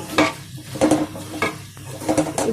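Raw banana (aritikaya) fry is stirred in a pan, a spatula scraping in a steady rhythm of repeated strokes over a soft sizzle, close and clear.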